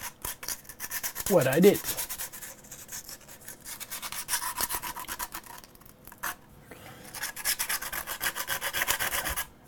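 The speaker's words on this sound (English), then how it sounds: "But sanding on white engine filament, whoa, takes time." Sanding a white 3D printed filament part by hand with P120 sandpaper makes a steady, close scratchy rasp of repeated strokes, continuing throughout with a brief spoken phrase near the start.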